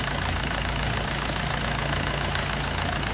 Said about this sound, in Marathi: इंजिन स्टार्ट केलं मित्रांनो